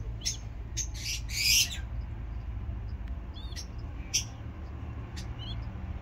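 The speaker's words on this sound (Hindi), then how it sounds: "इसमें तो बच्चे भी हैं, आप ये आवाज़ सुन सकते हैं।" Pigeon chicks in a nest at a mini zoo give short, thin, high squeaks and chirps in scattered bursts, faint against a low background hum.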